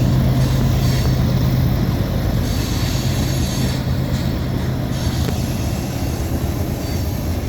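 A BNSF freight train crosses a trestle bridge at Mullan Pass, Montana, producing a loud, continuous rolling roar of railcars with a sustained low hum and faint high wheel squeal, with no voices.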